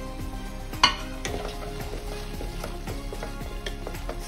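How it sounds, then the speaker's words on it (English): Frozen green peas are stirred into sizzling frying masala in a pan, with a steady crackle under repeated scraping strokes of a spoon and one sharp clink of metal on the pan. "Stir it for a while."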